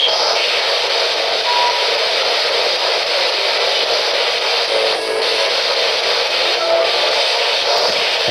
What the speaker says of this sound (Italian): Ragazzi, treno, scusatemi.